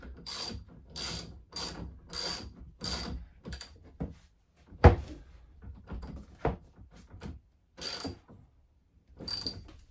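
Battery cable connections on a 12V Epoch 460Ah battery are tightened with a ratchet, giving bursts of quick, close clicking strokes separated by short pauses and one sharp knock, with no talk.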